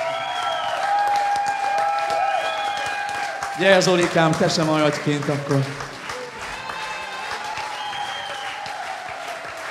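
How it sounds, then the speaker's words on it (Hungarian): Audience applause at a 2016 memorial evening at MOM Kult, with steady clapping running throughout under an amplified voice and music, swelling briefly in the middle before settling again. "Te öcsit fogadja nagy taps!"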